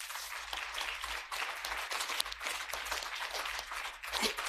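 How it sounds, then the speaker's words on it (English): Conference audience at a business-in-society event applauding, dense sustained clapping from many people filling the room without a break. "let's give him a big round of applause"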